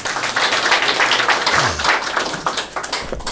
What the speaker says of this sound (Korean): 우리 김수영 회장님 한번 박수로 한번 좀 환영해 주시기 바랍니다